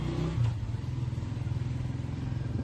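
A freshly tuned motorbike being ridden, its engine running steadily with a low, pulsing exhaust note and a slight rev near the start, close and continuous with no talk.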